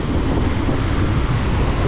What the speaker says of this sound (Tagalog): Lalo nang lumakas ang alon dito.